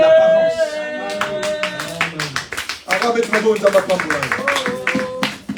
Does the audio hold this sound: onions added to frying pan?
no